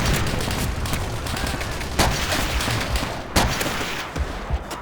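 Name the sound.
StG 44 assault rifle gunfire in Call of Duty: World at War video game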